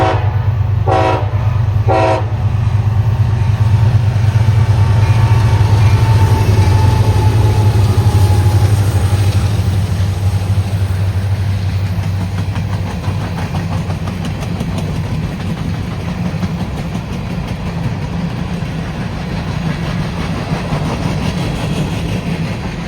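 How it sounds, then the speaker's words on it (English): A freight train of empty coal cars rolls past on the Cincinnati–Willard line, a loud continuous rumble and clatter close by with a heavy low drone, brief sharp bangs early on, easing slightly as it continues. "Those are empty coal cars."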